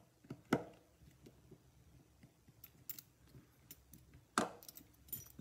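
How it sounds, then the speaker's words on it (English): Small screws are backed out of the rear of a Folger Adam 110 mogul detention pin tumbler lock cylinder, giving sparse metallic clicks and clinks, two sharper close knocks, and faint handling noise between them. "Just want to pull these screws off the back."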